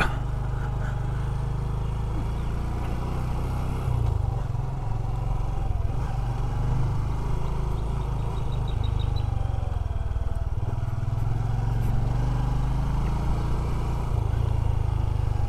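A Yamaha PG1 motorcycle cruising along, its small engine giving a steady low drone with wind rush, heard from the rider's position, fairly even and continuous with slight shifts in revs, no talking.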